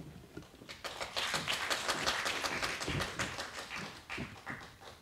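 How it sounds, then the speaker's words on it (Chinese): Audience applause at a Christmas piano concert by young students, a dense roomful of clapping that swells after a few scattered claps and holds steady, easing slightly near the end. "那现在我们掌声鼓励"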